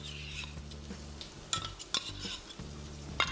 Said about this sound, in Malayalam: തക്കാളി ഒന്ന് സോഫ്റ്റ് ആവുന്നത് വരെ നമുക്ക് ഇളക്കിക്കൊണ്ടിരിക്കാം